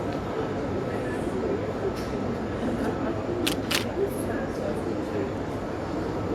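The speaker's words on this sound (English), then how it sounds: "That was a slow shutter, you would have heard that." A pair of quick, slow-shutter clicks from a Nikon camera, close by, over a steady background rumble and murmur.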